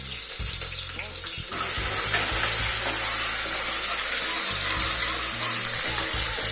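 Chopped onion hisses and sizzles loudly in hot oil with cumin, mustard seeds, bay leaf and curry leaves for tempering. A steady, close frying roar continues throughout with occasional stirring clatter.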